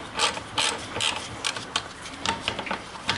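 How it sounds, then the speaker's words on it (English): A wrench working on the brake caliper bolts of a Honda Sportrax 300 EX quad, a quick series of close, rasping ratchet clicks and metallic scrapes in short bursts. "Now we're gonna take the caliper off."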